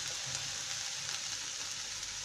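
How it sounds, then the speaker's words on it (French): Smoked bacon sizzling in a frying pan for a homemade burger, a steady close crackle and hiss that runs unbroken with no voices. "Le bacon fumé, hop, qu'on repasse à la poêle."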